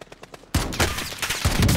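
Gunfire in the shooter game Modern Warfare bursts in suddenly after a quiet half second, then keeps going as dense, loud rapid shots and rattling bursts to the end.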